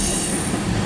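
CSX mixed freight train rolling past close by with tank cars and hoppers, a loud continuous rumble of wheels on rail with high metallic squealing over it.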